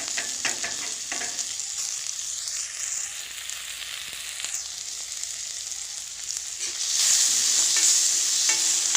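Ginger and garlic added to frying onions in hot oil sizzle continuously up close, with stirring scrapes early and a louder, brighter burst of hissing near the end.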